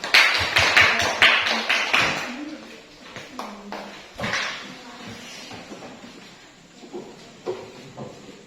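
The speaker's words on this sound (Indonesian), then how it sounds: "Tepuk tangan untuk kelompok 2 dulu" Students in an Indonesian classroom burst into quick, dense applause for a presenting discussion group, which tapers off within a few seconds and gives way to voices and room sounds.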